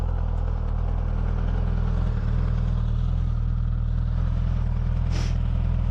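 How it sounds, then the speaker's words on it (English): Suzuki GSX S1000 inline-four motorcycle with stock exhaust idling steadily, a dense, even low rumble close by that holds level throughout, with a brief hiss near the end. "Okay, so let's start it up and do a little sound check."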